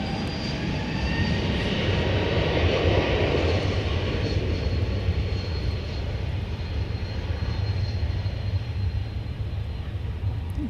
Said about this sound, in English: It's our second Air Canada jet of the evening.